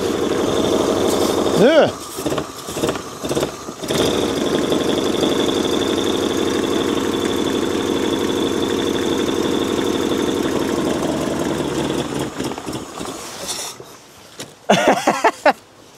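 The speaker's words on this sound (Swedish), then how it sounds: "så det är bara att låta han tomgång här ett tag" An engine that has just started idles with a loud, steady, slightly knocking rumble, sputtering and surging at first, then holding a rough idle before it falters near the end; a man calls out briefly and voices talk over it.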